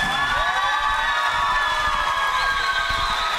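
Studio audience at a televised pantomime game show, a continuous wash of cheering and whooping voices with tonal shouts, loud and sustained throughout.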